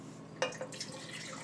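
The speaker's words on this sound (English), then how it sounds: "I'm going to rinse just real quickly there" A wine glass gets a quick rinse with water, a faint splash and a couple of brief drips over a quiet indoor background.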